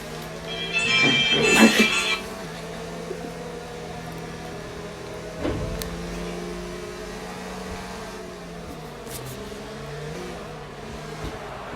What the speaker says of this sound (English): going a bit faster now behind Albon. Catching up to the pack